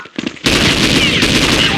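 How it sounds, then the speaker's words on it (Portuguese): Automatic gunfire from Counter-Strike 1.6 during a one-on-one match, a loud sustained burst of rapid shots that erupts after a brief quieter moment and continues to the end. "É você que me dá tiro aqui agora?"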